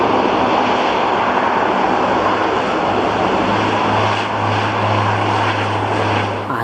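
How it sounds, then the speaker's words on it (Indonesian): Cargo plane, a Hercules propeller aircraft, heard as a loud, steady engine and propeller drone with a constant low hum, unbroken and without voices. "Di sini ternyata ada pesawat kargo."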